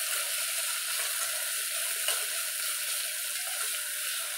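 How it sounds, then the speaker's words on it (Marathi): Onions frying in a pan for mutton kabuli pulao, a fairly quiet, even hiss of sizzling that holds steady with little stirring and no voices. "कांदा परतून घेऊ आपण।"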